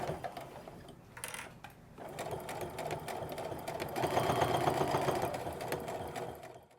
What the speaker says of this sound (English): the goal here is to stitch right next to, but not through the foam as we go around the edges